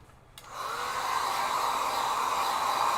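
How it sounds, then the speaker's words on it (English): A hair dryer switches on after a brief quiet moment and blows a steady, loud whoosh while drying a watercolour painting layer, holding an even drone to the end without talk. "Right, I'm just going to dry that layer."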